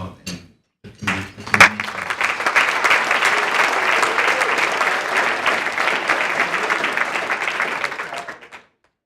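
An audience at an awards ceremony breaks into sustained applause after a few scattered early claps, loud and steady for several seconds before fading out.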